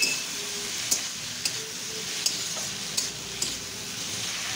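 Diced onion and capsicum sizzling in a pan for a chilli chicken dish, under a steady frying hiss, with a spatula scraping and clinking against the metal every second or so.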